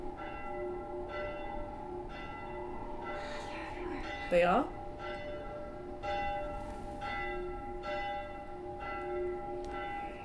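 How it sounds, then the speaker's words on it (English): An alert bell rings in The Last of Us, a repeated metallic clanging struck at a steady rhythm over a continuous tonal background, with a brief louder burst midway and a player speaking quietly. "I think that was their alert bell."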